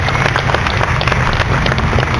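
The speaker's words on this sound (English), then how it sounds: "Can we have a round of applause, everyone?" An audience claps for the Asimo robot after its balancing demonstration, a steady, dense wash of applause running the whole time at close range without pause.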